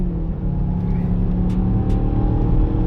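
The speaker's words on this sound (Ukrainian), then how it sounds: "Перевіримо, як від нуля до сотні вона на спорт режимі поїде" A 2021 Mazda CX-9 AWD 2.5T SUV engine revs and pulls hard from zero in sport mode uphill, a steady loud drone with rising tone, close by, no talking.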